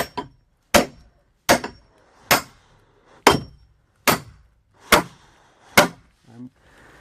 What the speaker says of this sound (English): keep in mind here I'm hammering left-handed